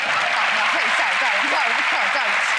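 Audience applause for a magic trick on a stage show, with a steady wash of clapping throughout and voices or cheers rising faintly through it.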